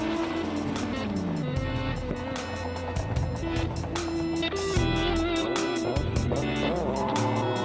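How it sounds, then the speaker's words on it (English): A twin-engine VW Golf warming up at a burnout contest in Saxony: loud, close engine revving that swells and drops repeatedly, with rising and falling pitch sweeps and harsh roaring bursts throughout. "warms up his bi-engine Golf"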